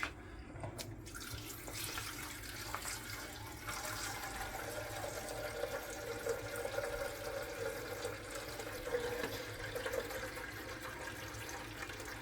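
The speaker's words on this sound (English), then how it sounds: "Now we're gonna fill the tank with the maximum water." Water pours steadily into the tank of a De'Longhi ECAM 650.85.MS espresso machine, a continuous close splashing and trickling that stays fairly even from start to finish.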